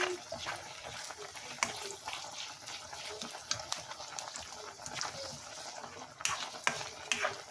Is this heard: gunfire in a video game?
no